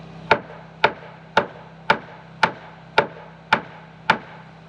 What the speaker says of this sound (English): Step one for me is always try to hammer it into place.